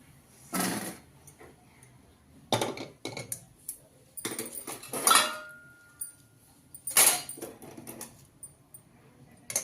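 Roasted food for a village-style tomato-onion egg curry is lifted onto a dish in a few separate bursts of scraping, clinking and rustling, with quiet pauses between.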